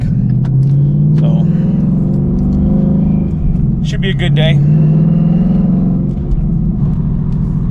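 Car driving on the road, heard from inside the cabin, with a low, steady engine rumble and road noise throughout while someone talks briefly over it.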